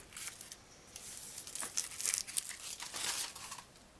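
Material being cut off while making a wallet journal, a quiet close crinkling and rustling with small snipping and tearing bursts scattered across a few seconds.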